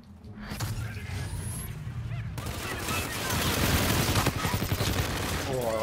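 Sustained gunfire from a Call of Duty: Infinite Warfare multiplayer match on the Bermuda map, dense rapid shots growing louder and busier after the first couple of seconds, with a voice talking underneath.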